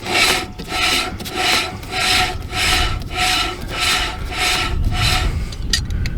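A camper trailer wheel hub turns by hand on its bearings after the nut is snugged with channel locks, giving a steady rasping, rubbing whir that swells and fades in regular cycles about every half second, close and fairly loud.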